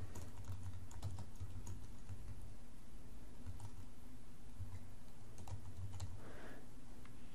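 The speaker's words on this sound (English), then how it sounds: "all we need to do is double click, type in the name of our customer" Computer keyboard keys tapped at a steady pace as a customer name is typed into business software, clicking close and continuous over a low constant hum.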